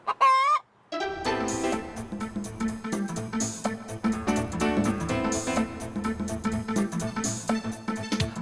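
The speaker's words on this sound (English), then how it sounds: "I keep chickens here" Hens clucking and a rooster crowing at a backyard chicken coop in the California heartland, with one high crow at the start followed by steady, busy clucking from several birds close by.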